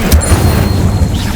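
Explosive Bombarda and Confringo spells go off in Hogwarts Legacy, a loud, sustained booming blast with a low rumble that fills the whole moment.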